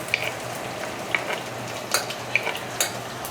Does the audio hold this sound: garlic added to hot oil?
yes